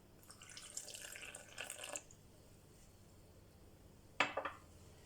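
Water is poured into a well of flour over yeast and sugar for whole wheat bread dough, two short close splashing bursts separated by a quiet pause.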